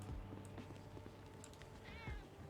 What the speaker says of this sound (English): Hey, look at the kitty cat.